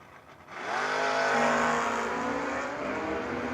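No-box 660 drag vehicles, one a Kawasaki, launch side by side and rev hard at a drag strip, a loud sustained roar with rising engine pitch that holds steady at high volume.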